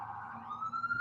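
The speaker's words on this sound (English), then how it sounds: "you can hear the sirens in the background" Police siren wailing in the background outdoors, a steady rising tone that climbs in pitch toward the end, continuous through the moment with no talk over it.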